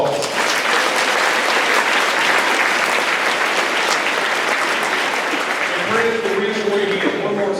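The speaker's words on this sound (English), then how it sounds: "Let's give them a round of applause." A school Veterans Day assembly crowd gives a sustained round of applause, dense and loud throughout, fading slightly as a voice begins at the very end.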